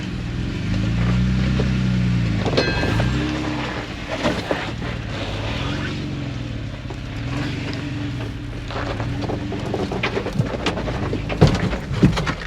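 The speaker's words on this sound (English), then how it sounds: "Yeah, see, the rocks are sliding around." Rocks crunching and sliding beneath a Jeep on long arm suspension crawling slowly off road, irregular gravelly grinding and knocks over a steady low engine rumble and whine, close and loud, without speech.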